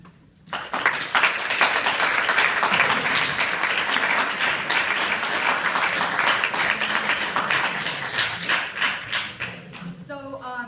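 A college campus event audience breaks into loud, sustained applause, dense clapping from many hands that tapers off near the end as voices begin.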